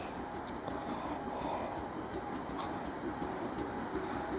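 A train passes through Bosham station at night with a steady, low rumble throughout, moderately faint with no talk over it.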